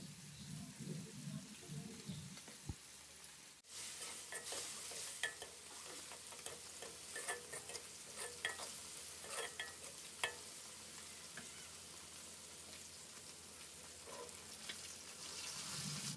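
Spice masala of cinnamon and cardamom powder stir-fried with a little water for egg bhuna, starting abruptly as a loud, steady sizzle with frequent scraping stirs throughout.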